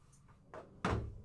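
A door shuts with a solid thunk near a sink, preceded by a couple of softer knocks and rustles, close by.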